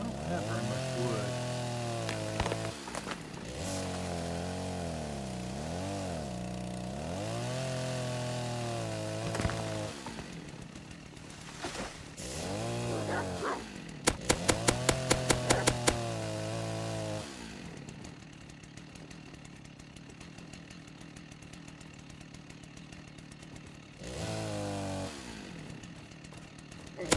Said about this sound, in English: I think the chainsaw would hurt them and kill them a lot faster.